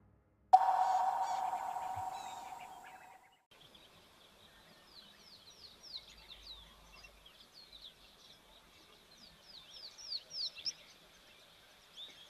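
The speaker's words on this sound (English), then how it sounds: "Seems like we've got our weavers are back. We have the village weavers or mast weavers." Village weavers or masked weavers call at an African waterhole, a busy scatter of high chirps and chatter at moderate distance, following a loud tonal electronic hum in the opening seconds.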